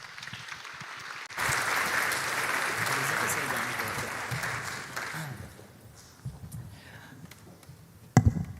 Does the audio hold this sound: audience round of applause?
yes